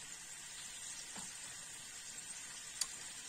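Monkfish tail sizzling in a pan, a soft steady frying hiss that stays faint and close throughout, with a small clink or pop near the end.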